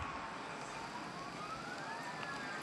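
A police car siren wails faintly in the distance, its rising tone sliding slowly upward over steady road and traffic noise, with no one talking.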